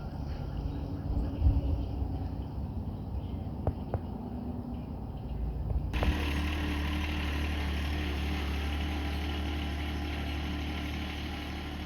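Farm tractor engine in rural Michigan, starting up partway through and then running steadily at idle, a constant close low rumble filling the second half after quieter outdoor ambience with a few knocks.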